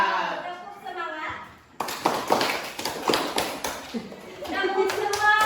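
A group claps out a rhythmic clapping game, with sharp, evenly spaced claps in quick patterns mixed with voices chanting along.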